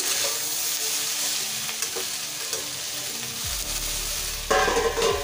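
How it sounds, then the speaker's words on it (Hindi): Onion and chopped tomato fry in a pan with a steady, close sizzling hiss, a few soft stirring knocks, and a brief low hum followed by a louder burst of frying near the end. "जब प्याज हल्का भुना जाए तब इसमें हम कटे हुए टमाटर को डालेंगे। दोनों को अच्छी तरह से हम भुनेंगे।"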